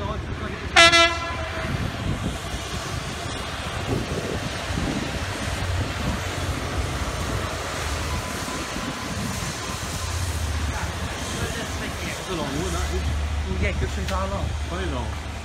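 Electric train pulling into a station platform, a long steady rumble of wheels and motors with a brief horn-like tone near the start and people talking over it.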